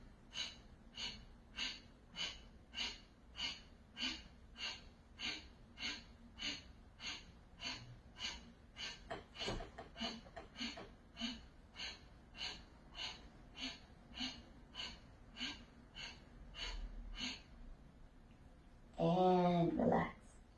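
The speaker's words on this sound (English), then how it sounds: "So breathing in, pumping our navel to 30 pumps." Rapid, forceful yoga breathing with the navel pumping, a steady run of about thirty sharp nasal exhalations in even rhythm, close and clear, then a brief spoken voice at the end.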